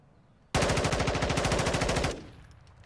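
A single loud, close burst of rapid automatic fire in Call of Duty Warzone rattles for about a second and a half, then cuts off into a short fading tail.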